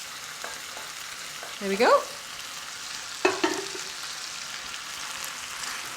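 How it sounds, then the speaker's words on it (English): Five hundred grams of frozen spinach frying in a pan with a low, steady sizzle and a couple of brief scraping stirs, while someone speaks a few words. "Right, let's put our spinach in. Remember, this is 500 grams of frozen spinach"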